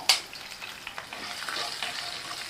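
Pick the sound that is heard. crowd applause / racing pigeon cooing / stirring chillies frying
stirring chillies frying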